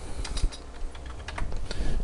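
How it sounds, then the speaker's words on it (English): Rapid keystrokes on a computer keyboard as a short command is entered at a Windows command prompt, a quick run of close, crisp clicks with no voice. "just type in ipconfig, all one word"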